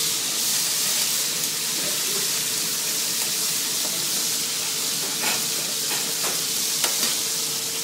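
A veal loin sears in a hot pan with a steady, dense sizzle throughout, close and fairly loud, with a few small crackles and pops as the meat is turned.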